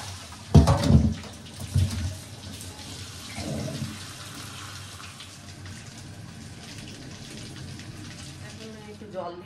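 Water poured into a pot of potatoes for boiling, a loud gushing splash at the start that settles into a softer running flow, with a voice speaking briefly.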